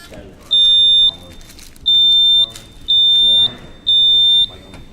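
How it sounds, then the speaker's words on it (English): Four electronic quiz bowl buzzers sound one after another during a buzzer check at a national championship finals, each a steady high tone lasting about half a second, separated by brief pauses with faint voices in between. "we do a buzzer check"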